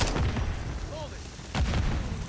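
Gunfire in the Call of Duty MW3 video game, a few booming shots heard in the mid-distance over a noisy battle background, with two stronger bursts near the start and middle.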